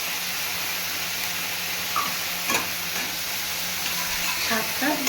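Shrimp paste fries in a hot pan with a steady close sizzle and hiss, punctuated by light stirring scrapes and a few soft clinks.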